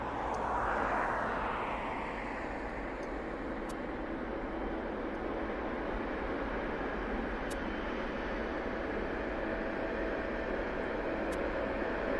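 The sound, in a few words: TUI Boeing Dreamliner aircraft at East Midlands Airport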